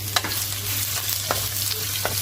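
Onion frying in hot oil for a Sri Lankan-style lamb rice, a steady close sizzle with a few sharp stirring clinks, no voices.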